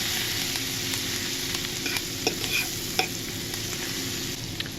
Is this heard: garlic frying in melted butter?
yes